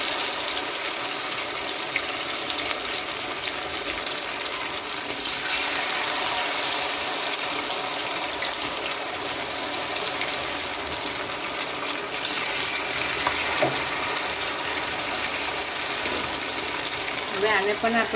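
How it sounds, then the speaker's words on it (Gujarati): Bread cutlets frying in hot oil over a high gas flame give a steady, dense sizzle that runs without a break, while someone speaks over it. "આ રીતના તળી લેવાનું છે"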